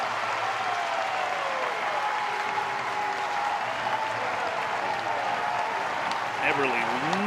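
A baseball crowd at Louisville cheers and applauds steadily throughout a Miami vs Louisville game, a dense continuous roar with a play-by-play voice talking over it.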